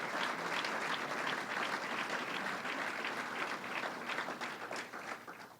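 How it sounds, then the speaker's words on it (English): Sustained audience applause at the kickoff of the 172nd Great New York State Fair, a dense, steady clapping from a large crowd that holds for several seconds before starting to fade. "And now that's a good point for applause right there."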